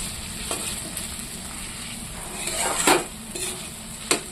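Kochu (taro) stalks with dry sidol fry in a pan, a soft continuous sizzle broken by several sharp scraping strokes of a spatula or spoon as the mix is stirred, close and alone.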